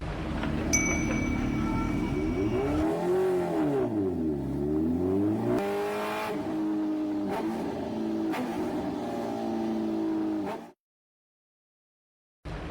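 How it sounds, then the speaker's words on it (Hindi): A heavy motorbike engine revs up and down near and loud, with a deep, rising and falling roar and sharp throttle blips, then cuts off abruptly into silence. "वाह भाई अहमद, कमाल की बाइक है।"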